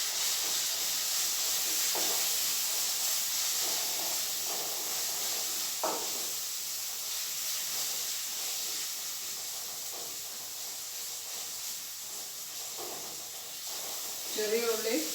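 Green chilies and shallots sizzle in hot oil in a home kitchen, a steady bright hiss throughout, with a few faint clinks and a brief louder splutter at the end.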